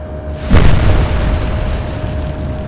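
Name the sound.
explosion hitting ship superstructure, Atlantic Fleet video game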